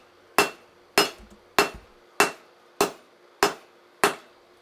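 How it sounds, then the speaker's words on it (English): A cross peen hammer spreads a hand-forged integral camp knife blade on an anvil with seven loud, evenly spaced metallic strikes, each ringing briefly before fading. "I can actually start spreading that blade out now with the cross peen"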